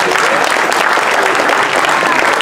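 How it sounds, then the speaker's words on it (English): A big audience at a Sri Lakshmi Narayan Kalyanam celebration gives Swamiji loud, dense applause, steady and close throughout. "With all your big applause"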